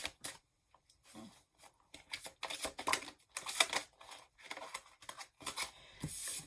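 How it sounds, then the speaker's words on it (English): Crisp riffling and flicking of playing cards being shuffled, in short repeated bursts with small pauses, close and fairly quiet. "I can't shuffle these cards for the life of me"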